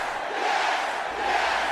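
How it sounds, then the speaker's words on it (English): An arena crowd in WWE 2K25 roars continuously, a loud, dense wash of cheering that holds steady for the whole moment with no break. "Looks like the crowd really wants to see this one."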